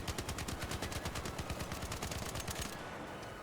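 The Tempest at level 4 fires in the shooter Arc Raiders: a rapid, evenly spaced automatic burst of sharp, loud shots for nearly three seconds, then stopping abruptly.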